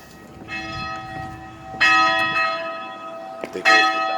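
Loud church bell striking in repeated heavy, ringing tolls that hang and decay between hits, close and dominant, with faint background activity underneath.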